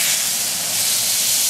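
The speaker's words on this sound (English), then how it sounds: "The reason why we're searing this is so you can lock in all the juices." A ribeye steak sears in a hot pan with a loud, dense, steady hiss of sizzling fat that runs unbroken for a moment. No voices are heard.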